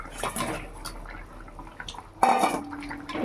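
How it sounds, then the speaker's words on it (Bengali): Fish is tipped into a pot of simmering curry with boiled potatoes, making a short series of splashes and pot clatters, then a sharper metallic clank and slosh near the end. "সব কটা মাছ ঢেলে দিলাম"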